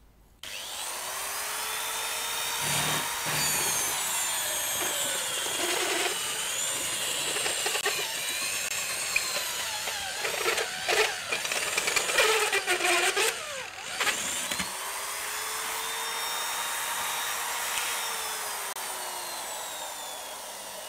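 A power drill bores holes during a Keritech DD-12 "Dirty Dozen" amp build, whining in sustained bursts with rising and falling pitch, broken by short pauses and grinding scrapes, loud and close with no talking.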